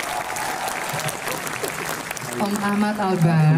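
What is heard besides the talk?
audience applause at concert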